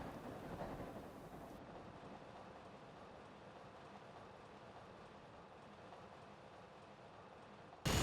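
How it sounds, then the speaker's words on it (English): A long train rolls along in the Uncharted 2 video game, giving a steady, dense rumble that stays loud and even from start to finish. "when we see the front of the train approaching, we can see just how long this train is"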